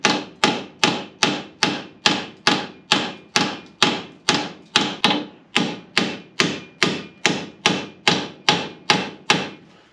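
A hammer drives a part home on the axle of a 1966 Chevy Nova, about twenty evenly spaced sharp metallic strikes close up, each ringing briefly before the next blow.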